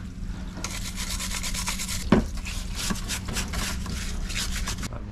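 A wire brush scrubs the crankset of an Orbea OIZ mountain bike in steady, rasping strokes with one sharp scrape partway through, close and continuous with no voices.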